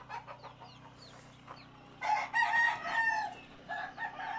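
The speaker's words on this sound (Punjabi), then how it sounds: "ਇਹ ਸਾਰੇ ਲੜਾਕੂ ਮੁਰਗੇ ਆ" Caged fighting roosters in a truck yard cluck softly, then one crows loudly nearby, a drawn-out call followed by more clucking, with no voices.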